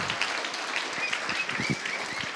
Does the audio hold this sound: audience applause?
yes